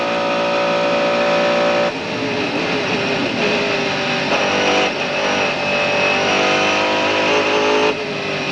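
Onboard a Mercedes CLR race car at Le Mans in 1999, the engine screams at high revs down the back section, loud and continuous, with brief dips at upshifts before climbing again.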